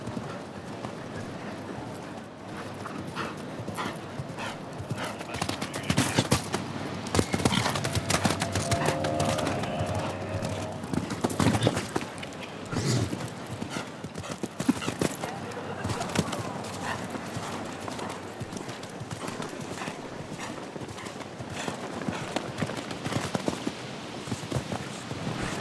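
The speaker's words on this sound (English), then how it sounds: "Underway with the 12-year-old stallion, Applize." A 12-year-old stallion's hooves beat in a quick, rhythmic clip-clop during a show jumping round at an international arena event. The moderately near hoofbeats rise and fade over an open, airy background.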